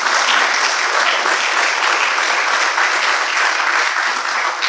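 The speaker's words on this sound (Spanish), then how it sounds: "Den un aplauso a su Rey." A church congregation applauds in a dense, steady roar of clapping that stays loud and even from start to finish.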